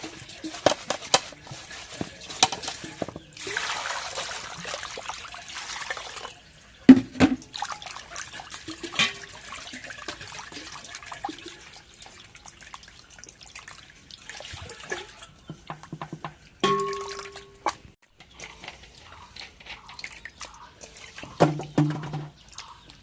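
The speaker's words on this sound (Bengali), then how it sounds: "এখন মাছটা যে কোটা টিপা হয়েছে, আরো ভালো করে ধুই।" Cut pieces of boal fish being washed by hand under running water, with intermittent splashing, trickling and clinks of a bowl, fairly faint and close, in a home kitchen.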